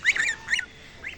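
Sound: geese honking

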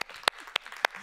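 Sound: audience applause

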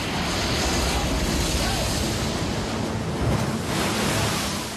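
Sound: ocean waves crashing

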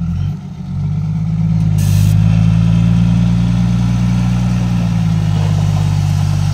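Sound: tractor engine

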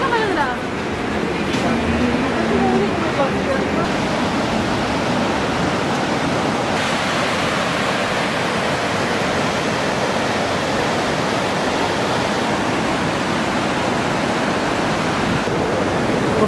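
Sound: hot spring water flowing at Manikaran gurudwara

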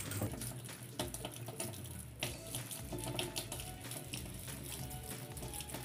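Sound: tap water running over hands and arms during scrubbing

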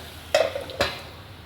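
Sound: masala being roasted and stirred in a pan

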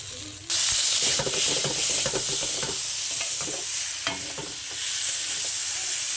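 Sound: frying and stirring spice masala with chopped tomato in pan

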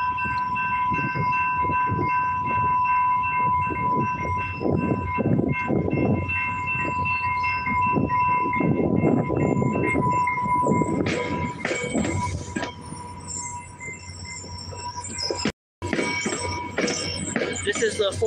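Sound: train arriving at station in Albuquerque

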